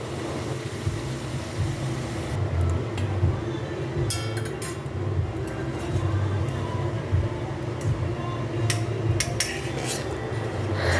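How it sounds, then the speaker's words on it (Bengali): Prawns fried in oil with a little turmeric, stirred in a pan with a utensil, scraping and clinking against the metal over a steady sizzle, with no one talking. "দিয়ে মাছটা একটু নেড়ে চেড়ে নেব"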